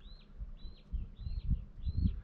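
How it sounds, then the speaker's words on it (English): A seagull calls over a lake in Voyageurs National Park, giving four evenly spaced, thin, high, faint cries above a low rumbling background. "That's a seagull."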